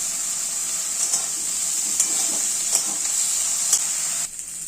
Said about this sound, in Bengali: বেগুনগুলোকে ভালো করে এবার ভেজে নেব